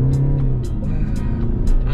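A Hyundai Palisade Signature 2021 in Comfort mode accelerates hard from close by, its engine droning loudly beneath repeated short bursts of tire noise as the wheels spin briefly.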